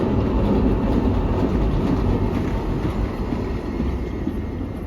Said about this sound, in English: This tram honestly looks very cool